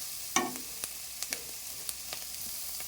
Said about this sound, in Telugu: ఎర్రగడ్డలు పచ్చిమిర్చి ఫ్రై అయినాయి